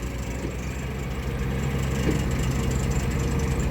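A tractor engine runs steadily while helping pull a vehicle stuck in a muddy hole, a continuous low rumbling drone that grows slightly louder partway through, with no talk over it.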